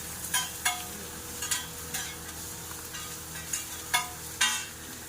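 Chicken pieces fry in a pan for an egg roll, a steady sizzle broken by sharp repeated stirring scrapes at irregular intervals, close and moderately loud with no talking.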